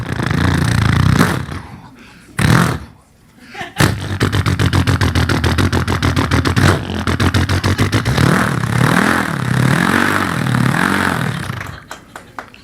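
A beatboxer's voice imitates a motorcycle revving, with a long run of rapid buzzing pulses that rise and fall through several throttle swells, opened by a few sharp vocal bursts and ending abruptly.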